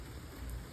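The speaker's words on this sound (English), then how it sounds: "And finally, we're getting rain here in Indiana." Steady rain falls outdoors in Indiana, a dense, even hiss of drops on surfaces with no gaps and no voices.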